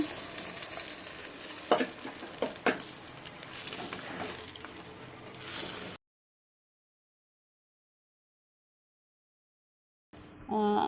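Mutton curry sizzles and bubbles in a pan while a spoon scrapes and stirs a few times, followed by a long silent gap and a brief return of sound.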